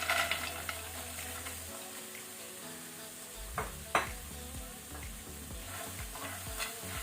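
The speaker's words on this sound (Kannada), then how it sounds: "ಇದನ್ನೀಗ ಹೈ ಫ್ಲೇಮಲ್ಲಿ ನೀವು ಸ್ಟರ್ ಮಾಡಿ" Pasta is stir-fried on high flame in a pan with crushed pepper, a steady sizzle under repeated scraping and clattering strokes of a spatula against the pan.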